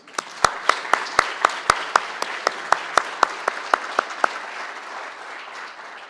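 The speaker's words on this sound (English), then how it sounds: "let's give a round of applause to those who have been newly promoted tonight" An audience at a police promotion ceremony applauds the newly promoted officers. One pair of hands claps sharply and evenly over a softer crowd wash, and the applause fades after several seconds.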